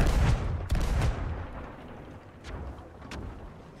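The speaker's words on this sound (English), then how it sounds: "I think I saw an extra explosion in their ship." Explosions burst aboard an enemy ship during naval combat in a video game: several heavy booms, a strong one at the start and more, fainter, cracking blasts trailing off amid rumbling.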